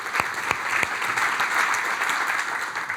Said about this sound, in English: Can I get a big round of applause for all of our live stream attendees?